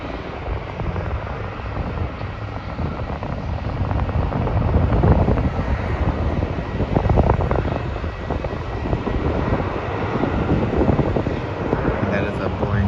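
A Virgin Australia Boeing 737 departs Melbourne airport for Sydney, its broad engine roar swelling and lingering at a steady, moderately loud level, with wind buffeting the microphone and voices talking over it.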